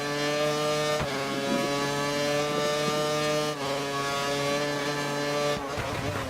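A McLaren Formula 1 car engine in a racing video game screams at high revs, climbing steadily with sharp gear-shift breaks, loud and continuous with no talking.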